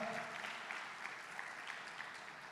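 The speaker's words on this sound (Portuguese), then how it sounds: "Aplaude Ele aí de todo o coração" A congregation claps during a Portuguese-language church service, with soft, distant applause carrying faintly through the room, punctuated by a few sharper claps.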